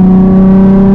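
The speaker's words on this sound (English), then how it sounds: "let's see if we can get some downshifts, maybe a little bit of a pull" A car engine held at a steady, loud, droning rev on back roads during downshifts, with a strong continuous hum and no break, no talk.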